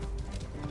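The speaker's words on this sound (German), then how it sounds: "Das muss Merets Pferd sein." Quick hoof clip-clops of a horse in Assassin's Creed Origins sound in a short rhythmic burst over a low background rumble.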